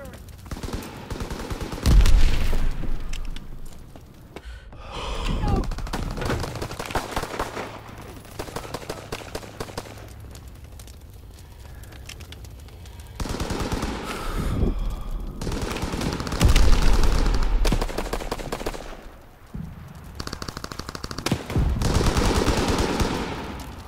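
Gunfire in the World War II shooter Call of Duty: WWII, with bursts of machine gun fire and single shots in uneven volleys over about 24 seconds, some loud and close, others further off, with a game voice briefly heard.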